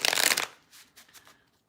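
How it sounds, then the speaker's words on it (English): Playing cards riffled in a fast shuffle, a dense loud burst of crisp flutter lasting under half a second, followed by a few softer card slaps and rustles, close to the microphone. "That was a fast shuffle."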